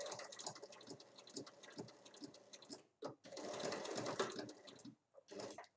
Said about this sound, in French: Je fais un petit point d'arrêt